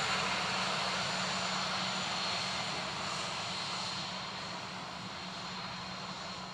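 A Ryanair airliner arriving at Dublin Airport gives a steady, moderately distant engine hum and whine that holds evenly and eases off slightly toward the end, with no talk.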